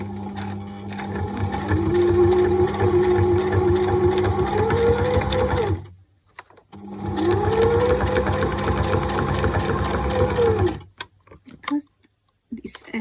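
Sewing machine stitching slippery acetate sheet: a steady fast mechanical whir and needle chatter runs in two long passes separated by a brief pause, close and loud, followed by a few light clicks.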